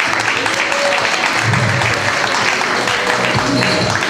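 An audience at a Carrefour fashion show applauds the models, loud continuous clapping from a close crowd with some voices mixed in.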